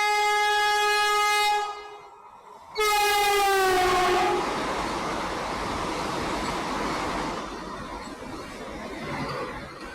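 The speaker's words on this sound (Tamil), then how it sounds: "இன்னொரு ட்ரெயின் வந்தே பாரத்ங்கிற ஒரு ட்ரெயின் வருது" A loud horn from a Vande Bharat express train blares twice, then the train roars past up close with a continuous rumbling rush that slowly eases.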